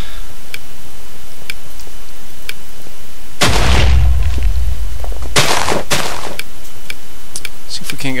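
Bombs exploding in a Minecraft Bomberman-style game, with two loud close booms a couple of seconds apart and regular ticking fuse clicks before and after.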